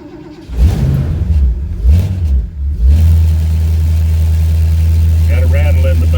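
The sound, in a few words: Ford Torino car engine starting and idling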